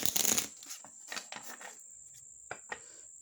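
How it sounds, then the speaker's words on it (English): Oracle cards with resilient cardstock being shuffled up close: a dense riffling burst, then a few scattered soft flicks and taps, with a faint steady high whine underneath. "They shuffle very easily."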